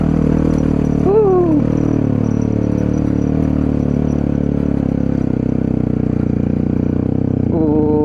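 A motorcycle engine drones steadily and loudly at close range, labouring uphill on a steep road toward Mount Bromo, with brief pitch sweeps near the start and end as it works under load.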